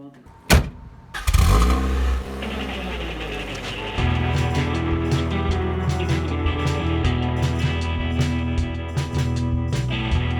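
A Saturn SC1 wagon's door thumps shut, the engine cranks and catches, and then it drives off with a steady, close engine drone and road rumble that continues to the end.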